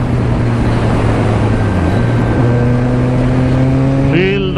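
A Kawasaki Ninja ZX-14R motorcycle engine drones steadily while being ridden through fog, a loud sustained tone that shifts pitch and climbs sharply near the end, with wind rush throughout.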